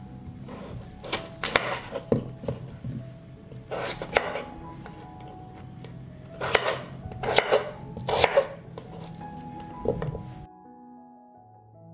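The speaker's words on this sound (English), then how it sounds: "I will cut a kilo of potatoes" Knife chopping potatoes on a cutting board, a kilo being cut: bursts of sharp, rapid taps in uneven clusters with short pauses between them, close and fairly loud, ending in quiet.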